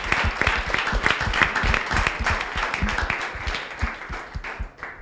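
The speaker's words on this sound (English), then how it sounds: "Another please round of applause for the speakers and for the" An audience claps for the speakers and panels at a product design masterclass, a dense burst of many hands that holds steady, then thins and fades toward the end.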